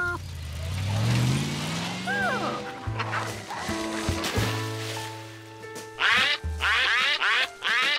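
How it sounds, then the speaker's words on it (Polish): Cartoon ducks quack in a flock swimming around a monkey on a river trip in Curious George, loud nasal quacks bursting out in quick clusters among vehicle engine sounds and other effects. "Jeszcze nigdy kaczki nie pływały w stadzie dookoła George'a"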